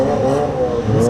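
A Chevelle drag car roars hard at a dragstrip test-and-tune session, its loud engine holding a steady, dense drone through the whole short moment, with no talk.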